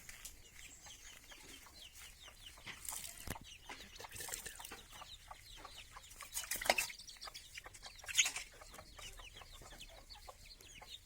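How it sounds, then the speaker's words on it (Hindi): Sonali chickens cluck steadily while eating cooked rice on a farm, a dense flock of soft, overlapping clucks with a couple of louder calls near the end, and no talking. "ये राइस देने के साथ साथ ये मुर्गियां बड़े ही चाव से ये राइस खा रहे हैं"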